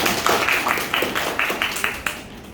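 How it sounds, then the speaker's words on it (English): Morning event audience clapping in response to a request, a handful of distinct claps spread over a couple of seconds, fairly close, with faint background murmur. "Please clap your hand, please"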